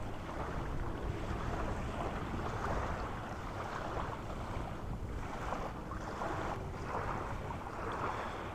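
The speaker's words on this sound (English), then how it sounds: "We have a pretty good breeze coming out of the north" Steady wind from the north blowing hard across the microphone outdoors, a constant loud rushing roar with gusts swelling and easing throughout.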